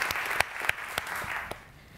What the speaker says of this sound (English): a little extra applause